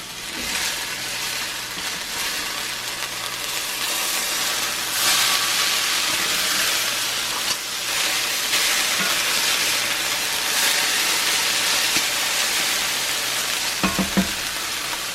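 Bacon frying in a cast iron skillet gives a loud, steady crackling sizzle throughout, close up, with a few brief clatters near the end.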